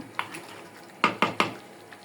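A metal lid is set on a pot of beef cooking on the stove, giving a quick run of three close, bright clinks after one lighter tap.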